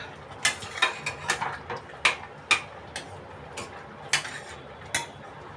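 A spoon stirs a small amount of cardamom into a sweet milk and sugar mixture in a pot, giving a dozen or so sharp metallic clinks and scrapes at an irregular rhythm, close and fairly loud, with no voices.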